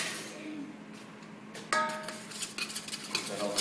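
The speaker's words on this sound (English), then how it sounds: "I'm gonna grab a big spoon right up here." A big spoon clinks and scrapes against a bowl while stirring crabcake ingredients with mayonnaise, mustard and egg, a steady run of close metallic taps and clatter growing busier after a sharp knock.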